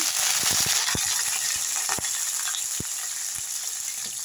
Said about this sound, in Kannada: ಈರುಳ್ಳಿ ಮತ್ತು ಕರಿಬೇವು ಎರಡು ಒಟ್ಟಿಗೆ ಹಾಕ್ಕೊಳ್ತಾ ಇದ್ದೀನಿ